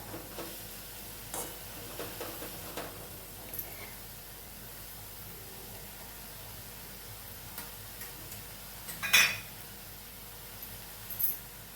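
Kaamanchaku leaves cooking in a pan give a faint, steady low sizzle, with a few soft scrapes and clicks from stirring and one brief louder scrape near the end.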